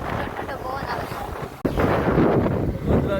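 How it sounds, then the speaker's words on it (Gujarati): Cold wind blows steadily through a forest and buffets the microphone with a loud, continuous rumble, broken by one brief dip midway. "ઠંડો પવન આવે છે"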